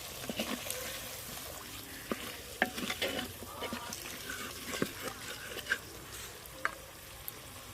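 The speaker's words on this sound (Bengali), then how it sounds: "এবার আমি চিকেনের পিসগুলো দিয়ে দেব।" Chicken pieces frying in a pan with biryani masala, salt and slit green chilies, sizzling steadily under repeated scraping and clinking of a stirring spoon; faint voices are heard in the background.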